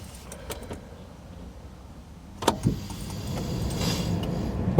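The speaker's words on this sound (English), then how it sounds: "I'm even turning the car on now as if I want to go" A car is started from inside the cabin with a jangle of keys and a brief cranking burst, then the engine settles into a steady idle hum.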